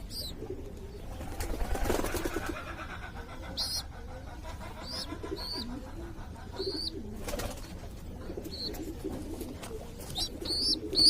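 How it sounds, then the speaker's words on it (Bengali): Afsan Baga pigeon chicks kept indoors make soft low cooing calls near the microphone, scattered through the clip with brief shuffling and a few sharp thin chirps, over a quiet room hum with faint traffic. "আমার এইখানে আফসান বাগা কবুতরের 4 পিস বাচ্চা আছে, তার মধ্যে 2 পিস হচ্ছে জুটি।"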